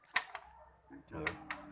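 A few sharp mechanical clacks of manual typewriter keys in a quick, uneven burst, close by, with a faint voice murmuring underneath.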